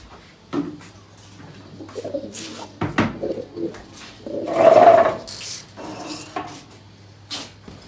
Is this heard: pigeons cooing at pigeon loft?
yes